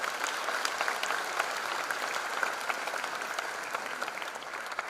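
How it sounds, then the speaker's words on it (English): At a college freshers' induction programme, an audience gives steady, sustained applause that stays even and fairly distant throughout, with no voices standing out. "Give him a big applause, ladies and gentlemen"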